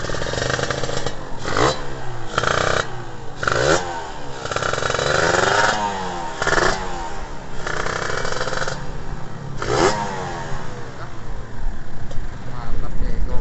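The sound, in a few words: Kawasaki Ninja RR motorcycle engine revving through a special exhaust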